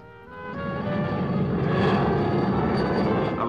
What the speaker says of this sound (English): The Royal Navy Wessex.